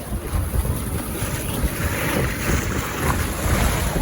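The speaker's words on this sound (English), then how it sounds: "It's flowing in. Flowing into the hole that it's like sucking the water down." Floodwater from Hurricane Fiona rushing and churning steadily into a hole, loud and close, with gusty wind buffeting the microphone throughout.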